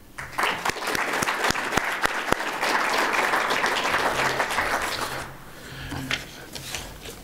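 An audience at an annual general meeting in Regina, Saskatchewan applauds to congratulate a team, opening with a few sharp separate claps, then steady moderate clapping that thins and fades toward the end.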